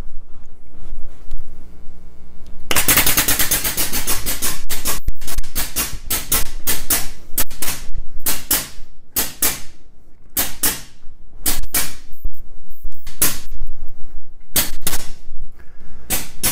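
A LubePro A4000 reciprocating grease pump drives 100 GL-32 injectors, giving a long run of sharp, rapid clicks and snaps. The bursts come in irregular clusters over a steady mechanical hum, loud and close, with no talk.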